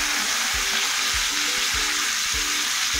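Raw banana slices fry in a pan with salt, a dense steady sizzle broken by regular scraping thumps of stirring, close and fairly loud.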